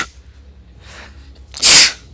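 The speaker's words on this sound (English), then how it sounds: "The sneezes are powerful with this one." A single loud sneeze from a young Tauren Paladin character in World of Warcraft, a sharp burst near the end after soft breathy sounds, with no talking.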